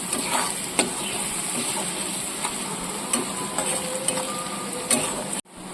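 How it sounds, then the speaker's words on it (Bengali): Prawn curry masala with chili powder is stir-fried, a steady close sizzle with a high hiss, punctuated by several sharp spatula scrapes and clicks before cutting off abruptly near the end. "এবার আমি ভালো করে কষিয়ে নেব।"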